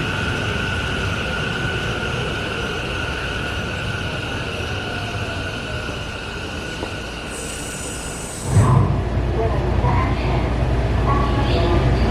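A Taiwan railway train pulls away from the platform toward HSR Taichung Station, steady wheel squeal and a humming traction tone, then a sharp burst of noise and a louder low rumble as it gets moving.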